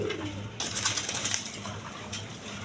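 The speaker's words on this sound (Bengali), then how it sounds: "এখানে এক পেয়ার মসলদম কবুতর দেখেন" Masoldom pigeons, an adult pair, in a pigeon market setting: soft low cooing near the start under a loud broadband hiss and rustle of background noise, with no talk.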